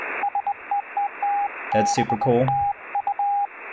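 Morse code received on HF shortwave through a WebSDR: a steady sequence of clean tone beeps, dots and dashes over radio hiss, briefly interrupted by a person speaking before the keying resumes.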